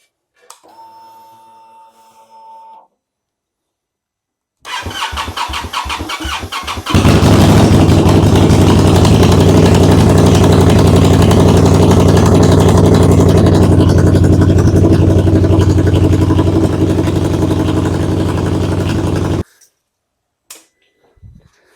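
An Indian Scout Bobber motorcycle engine, in neutral, cranks in short pulses, fires up loud and close, and idles with a steady throbbing rumble before shutting off.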